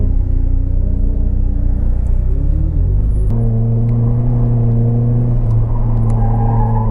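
Nissan S15 on a race track with its engine humming steadily as it weaves to scrub the tires, a close, continuous in-car drone with shifts in pitch and no talking.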